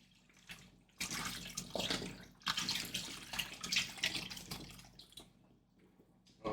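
Chicken stock mixed with water pours into a soup pot for Burmese coconut noodle soup, a close, steady splashing gush that starts abruptly and tapers off toward the end.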